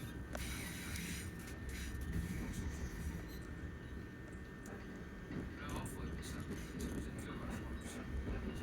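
A C2C train runs between Fenchurch Street and Limehouse with a steady, low rumble and rolling wheel noise, heard from inside the carriage. A voice talks faintly above it.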